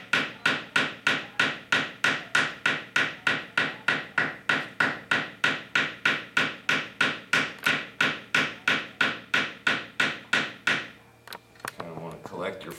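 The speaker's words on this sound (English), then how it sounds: "You want to collect your form first and then work out the details with your hammer." Steady, rapid hammer blows on wire for wire wrapping, about three per second, loud and close, ending abruptly with some faint clatter afterward.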